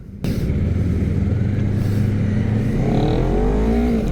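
A Honda CBR250RR SP 250cc two-cylinder motorcycle starting up on a street, its engine catching abruptly and then humming steadily, rising into a climbing rev near the end, loud and close.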